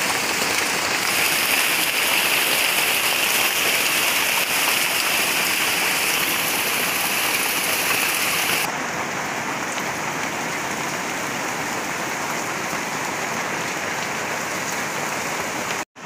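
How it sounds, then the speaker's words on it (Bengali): Heavy monsoon rain pours steadily onto surfaces beside a pond, a dense continuous hiss that stays loud throughout and eases slightly halfway, with no voices. "আসলে আজকে প্রচুর বৃষ্টি, এই বৃষ্টির জন্য ভালোভাবে শব্দ শোনা যাচ্ছে না।"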